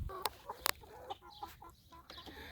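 Chickens in a coop give quiet, scattered clucks and short calls, faint and close, mixed with small rustling and knocking noises.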